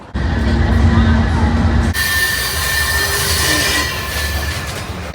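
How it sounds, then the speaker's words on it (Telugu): A train runs through Montreal city with a loud, steady rumble and sustained squealing wheels, the sound shifting brighter partway through. "సిటీలోనే ట్రైన్ వెళ్ళడం భలే ఉంది నిజంగా, చాలా బాగుంది."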